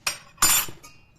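A metal spoon clinks against a pot in three quick, close strikes, the middle one loudest and ringing a little longer, with the last faint, and no talking.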